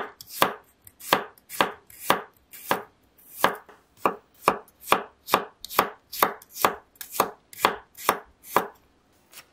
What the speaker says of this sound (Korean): 마늘 5톨은 굵게 다져줄게요.